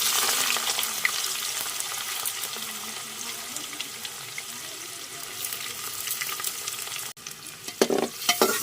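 Onion sizzles and fries steadily in a pan alongside golden green garlic for a mushroom dish, a constant hissing crackle close up, with a brief stirring clatter near the end.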